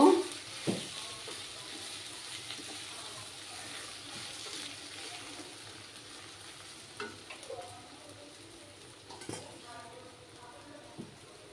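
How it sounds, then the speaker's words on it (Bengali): Masala spices for a chicken ghee roast frying in a pan, a soft steady sizzle with scattered clinks and scrapes of stirring, fairly quiet. "দিয়ে আমি মশলাগুলো ভালো করে কষিয়ে নেব।"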